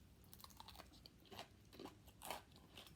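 Someone bites and chews Popeyes fried chicken close to the microphone, a series of quiet, crisp crunches building in loudness, with no talking.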